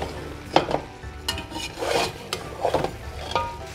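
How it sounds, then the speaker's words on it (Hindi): Turmeric masala fries in a pan for Lahori paye while a spoon scrapes and stirs it in repeated strokes, a loud close rasping over a steady sizzle, no voices. "इसको भी 2 से 3 मिनट तक भून लेते हैं, ताकि जो हमारा मसाला है वो इसके साथ अच्छी तरह से भून जाए"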